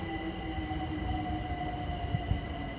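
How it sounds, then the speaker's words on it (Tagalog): Train at Hackney Central station in the rain, a steady rumbling drone with faint tonal whines and occasional wheel knocks, heard close and continuous. "The train in Hackney Central."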